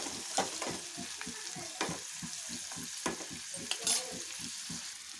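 Onions and green chillies fry in a pan for an Andhra-style ivy gourd curry, a soft steady sizzle broken by regular stirring clicks and scrapes, close and uninterrupted.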